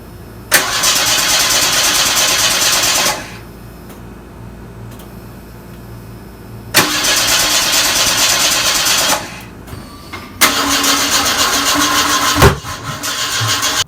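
A Ford XR4Ti engine, just back from head gasket work, cranks over loudly in three long starter bursts separated by pauses, the strained whirring cranking close and harsh without catching cleanly into an idle.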